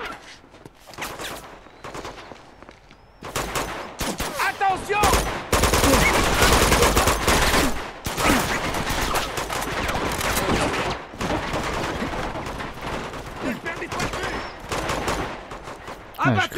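Combat in Uncharted 2 with rocket and grenade launcher fire mixed into heavy automatic gunfire. Loud blasts and bursts pile up over about sixteen seconds, and voices are heard at times.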